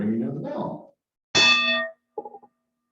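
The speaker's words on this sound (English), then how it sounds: "I would like to officially go ahead and start our meeting with the ringing of the bell" A bell is struck once to open a golf tournament kickoff meeting, ringing with a bright, sustained clang that decays over about half a second, followed by a short, fainter rattling after a brief voice at the start.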